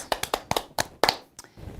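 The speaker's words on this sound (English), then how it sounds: "Let's give them a round of applause" An audience at an ocean film festival fall benefit claps for the festival volunteers, with a few sparse, distinct handclaps close by that thin out and fade toward the end.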